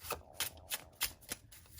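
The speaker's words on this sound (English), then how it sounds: "And we are going to shuffle your tarot cards." A deck of tarot cards being shuffled by hand, heard close and quiet as a quick series of about six soft riffling flutters in an uneven rhythm.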